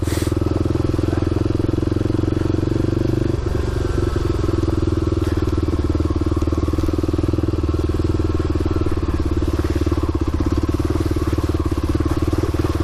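A motorcycle rides through puddles on a wet road near Christmas, its engine droning loud and steady close by, with a brief change in tone partway through and a constant rushing wash over the whole stretch.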